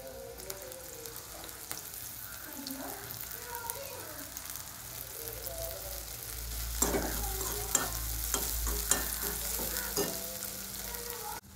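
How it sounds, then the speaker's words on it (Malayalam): Shallots and green chilies hiss and crackle in hot coconut oil in a steady close sizzle, with spoon clinks and stirring that get louder midway, while someone speaks softly. "അതിലേക്ക് ഈ കൊച്ചുള്ളി ഇടാം. പച്ചമുളകും കൂടി ഇട്ട് കൊടുക്കാം."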